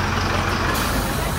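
Older city bus with air brakes on a ride from Ajijic to downtown Chapala, giving a steady, loud engine and road rumble close by, with faint voices in the cabin.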